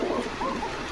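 Pigeons at a pigeon farm in Bogura, soft cooing calls rising and falling close by in a short burst.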